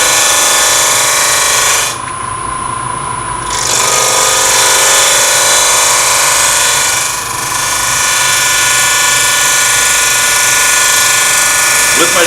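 A woodturning lathe cuts the corner of an open segmented wood piece, producing a loud, steady, continuous tool-on-wood roar that runs throughout with only brief dips.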